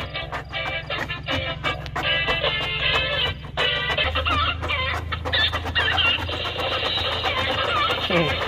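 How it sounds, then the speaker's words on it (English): Chickens cluck and squawk repeatedly at an apple farm in Canada, close and busy, with a steady low rumble underneath and occasional voices in the background. "Hello chicken."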